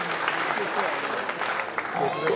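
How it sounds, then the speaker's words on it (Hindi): Audience applause at a Hindi comic poetry gathering (kavi sammelan) for a romantic poetess, dense steady clapping filling the whole stretch at moderate loudness with some voices mixed in. "एक बार जोरदार तालियां बजाइए"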